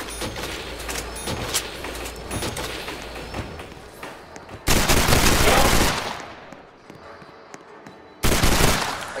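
Video game gunfire comes as rapid bursts of shots over continuous game noise, with two louder, dense volleys near the end.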